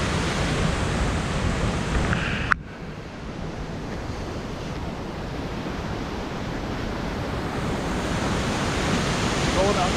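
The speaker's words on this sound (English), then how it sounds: "And there's the waterfall." Big Manitou Falls, a waterfall over 160 feet high with ice around it, gives a steady broadband roar that runs through the whole stretch. It breaks off briefly and softly with a sharp click early on, then carries on unchanged.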